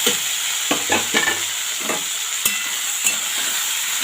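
Tomatoes frying with salt and turmeric in a pan, a steady sizzle underneath with intermittent spatula stirring scrapes and clacks, close and moderately loud, no talking.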